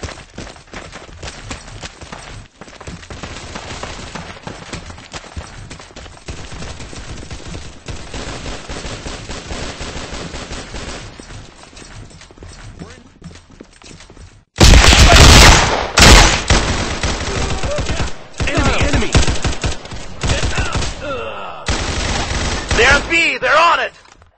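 Gunfire in the tactical shooter Unit:Classified, with a quieter stretch of scattered shots giving way to a loud burst of rapid, overlapping automatic fire in the second half. Voices talk over parts of it.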